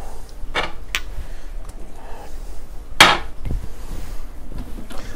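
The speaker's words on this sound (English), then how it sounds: "We're going to open up this garlic here." A jar of pre-chopped garlic being opened in a home kitchen, with a few sharp clicks and knocks of the lid and glass, one louder crack partway through, close and fairly loud against faint kitchen background.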